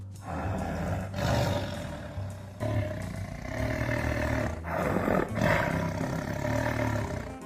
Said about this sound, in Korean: 제일 기억나는 호랑이 울음소리가 어떤 거예요? 이거는 이제 화내는 그런 소리고.